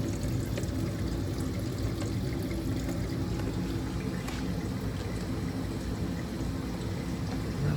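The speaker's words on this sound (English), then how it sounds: "Antifreeze is draining." Antifreeze draining from a 2017 Jeep Grand Cherokee during a thermostat replacement, a steady faint trickle and pour of coolant that continues evenly throughout.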